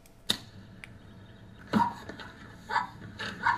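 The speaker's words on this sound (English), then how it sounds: "That is my pug barking." A pug barks indoors in short, sharp yaps: one near the start, then a cluster of several quick barks toward the end, with quiet room tone between them.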